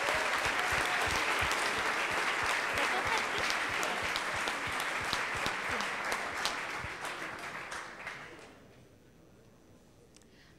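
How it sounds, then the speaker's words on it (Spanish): Audience applause at the ICPC Latin America programming contest closing ceremony, steady and full for about eight seconds before fading out into near silence. "Un aplauso."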